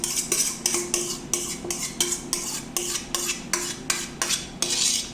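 Eggs are beaten into cake batter in a bowl: a utensil clinks and scrapes against the bowl in a quick, steady rhythm, close and clear, with no talking.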